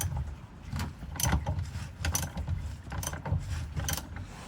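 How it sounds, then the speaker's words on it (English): Hand ratchet winching a Fiat Ducato spare wheel up into its carrier in wet weather, a steady run of clicking, grinding pulls in a rough rhythm, close by, with no talking. "now we are going to winch it up with my ratchet for now"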